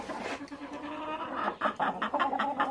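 Chickens cluck and squawk close by on a farm in the late afternoon, gathering for food, with short repeated calls growing busier and louder toward the end.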